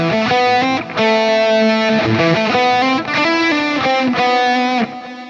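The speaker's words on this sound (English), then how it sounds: "Let's dial it so the reverb pad doesn't overpower the auto-filtered stereo movement." A Line 6 Helix guitar tone with a reverb pad and stereo auto-filter effects plays sustained chords that shift every second or so, smooth and washy, loud and alone with no talking.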